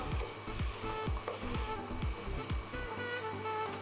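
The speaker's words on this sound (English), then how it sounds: "Stir that in as well." A spoon stirs a hot chocolate mixture with sugar in a pot, making rhythmic scraping strokes roughly every half second, close and moderately loud, with a soft sizzle beneath.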